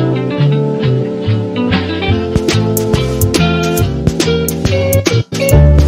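The bridge section of an original Minecraft music disc plays loud and clear, with sustained chords and melodic notes changing every second or so and sharp percussive hits entering halfway through. No voices over the music.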